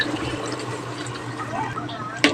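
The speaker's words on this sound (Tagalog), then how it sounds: "Dagdag po tayo ng tubig." Water pours into a pot of chicken stew as a steady liquid rush, close and continuous, ending with a brief sharp clank of the pot.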